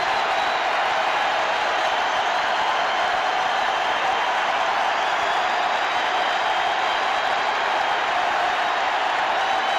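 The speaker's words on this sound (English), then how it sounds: "And here's that crowd in it." A baseball stadium crowd roars during the 2004 NLCS Game 5, Cardinals at Astros in Houston, a loud, dense, sustained wash of cheering that holds steady throughout.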